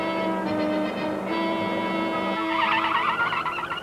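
A car's tires screech in a sustained, strained squeal under hard braking, rising harsher toward the end over nearly four seconds, with engine noise beneath; no voices.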